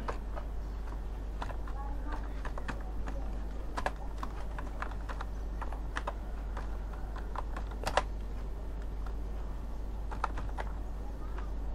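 Keystrokes typing text into a video editing app, a steady stream of crisp clicks close up over a constant low hum, with a voice speaking now and then.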